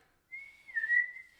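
A voice imitates a failed whistle, a breathy wavering tone that starts, dips and swells again for about a second, alone in a quiet room.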